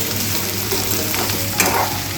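Fresh, firm mushrooms fry in a hot pan with a loud, continuous sizzle, stirred close up with a brief scrape partway through and no voices.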